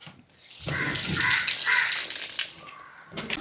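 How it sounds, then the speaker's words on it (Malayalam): Water is poured off soaked rice for chicken biryani, a steady splashing gush for a couple of seconds that tapers off, with a brief second pour at the end. "നമ്മൾ കുതിർത്താൻ വെച്ചിട്ടുള്ള അരിയില്ലേ, അതിൻ്റെ വെള്ളം ഊറ്റി കളയുന്നു കേട്ടോ"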